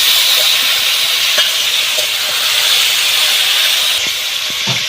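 Salted potato pieces fry in a hot pan with a loud continuous sizzle and hiss, occasional stirring clinks and scrapes breaking through, no talk.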